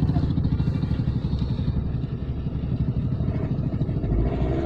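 A motorbike stuck on a snowy mountain road near Sela Pass revs in a steady, rough engine drone with clattering, loud and continuous throughout, and faint voices mixed underneath.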